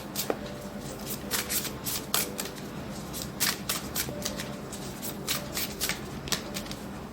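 Tarot cards being shuffled by hand, a run of quick crisp riffling bursts and soft flicks repeating at uneven intervals, close and clear with no talk.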